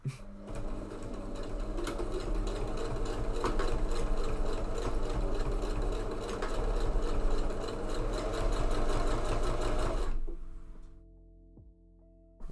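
Close, steady whir of a sewing machine stitching a corset mockup for about ten seconds, then it slows and stops, leaving a faint low hum.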